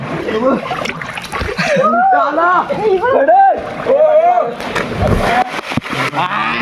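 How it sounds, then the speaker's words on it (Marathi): Friends swimming in a village well splash and slosh in the water. Their excited shouts and chatter echo loudly over the splashing, with a burst of heavier splashing near the end. "सगळेजण उड्या मारतायत आणि विहिरीत उड्या मारायची मजा पण वेगळी आहे"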